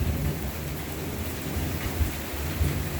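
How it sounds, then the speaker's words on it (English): A Florida thunderstorm with steady heavy rain pattering on surfaces and low rumbling thunder rolling beneath it, dense and continuous. "It's raining and thundering and lightning."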